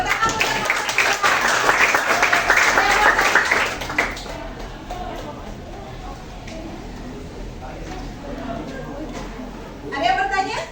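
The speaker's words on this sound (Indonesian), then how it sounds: "Oke, tepuk tangan." Audience applause at an academic coaching session fills the first four seconds with dense, loud clapping, then fades into quieter room noise and murmuring voices, with a short burst near the end.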